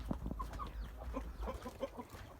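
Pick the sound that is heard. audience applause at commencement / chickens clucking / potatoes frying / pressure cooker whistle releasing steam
chickens clucking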